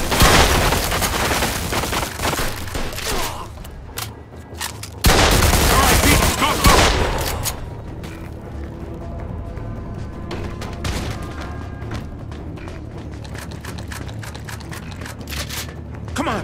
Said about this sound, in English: They're shooting at me for Christ's sake.